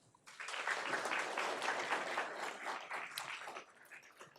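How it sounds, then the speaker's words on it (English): An audience at a school board meeting applauds for a student, a dense burst of clapping that swells quickly, holds for about three seconds and then tapers off, heard from a distance and fairly faint. "could we give a round of applause for Brody Smith?"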